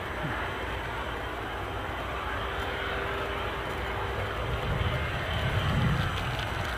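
An ATR turboprop airliner at Edinburgh airport gives off a faint, distant engine roar overhead, a steady broadband drone that swells slightly toward the end.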